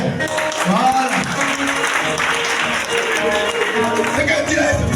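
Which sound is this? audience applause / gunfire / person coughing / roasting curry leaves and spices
audience applause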